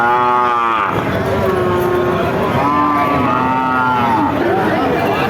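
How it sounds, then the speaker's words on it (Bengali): Cattle, young heifers, moo repeatedly at a livestock market, several long drawn-out calls overlapping one another, with a busy crowd murmuring throughout. "এক জোড়া বকনা গরু দর্শক দেখা দেখি বেচা বিক্রি চলছে"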